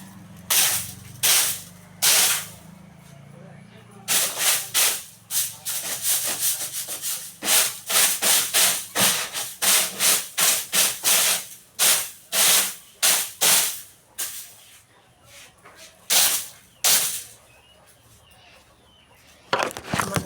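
Brisk rubbing and brushing strokes of dusting and sweeping during house cleaning, repeated in uneven bursts with short pauses, close and fairly loud, with no talk.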